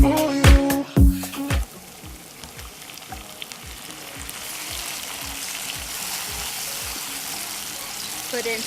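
Minced meat frying in oil in a pan opens with a few loud clattering knocks, then settles into a steady, low, continuous sizzle with no talking.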